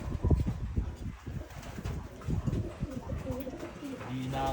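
Pigeons on a free flight coo repeatedly in soft, rounded calls, close by and fairly loud, with bursts of wing flutter and rustling in between and a tonal, cooing phrase near the end.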